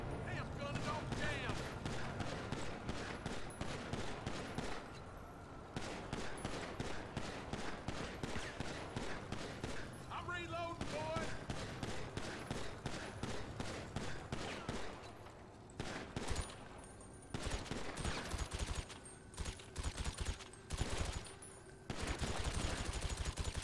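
Gunfire in GTA 5 at the Los Santos cemetery, long stretches of dense rapid automatic shots, steady and close, with a voice speaking in Portuguese over the shooting.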